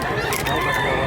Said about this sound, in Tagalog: Ang manok mga idol.